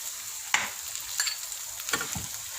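Boiled mashed potatoes and onions frying in a pan for chicken samosa filling, a soft sizzle broken by several sharp spatula scrapes and knocks against the pan, close and without talk.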